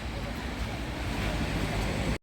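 Sea waves wash steadily onto the shore at Dubrovnik, a continuous close rushing surf with some wind noise, cut off briefly near the end.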